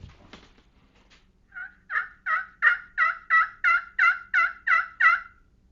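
A wild turkey hen yelps in a rhythmic series of about ten evenly spaced calls, clear and fairly close, after a couple of faint softer notes.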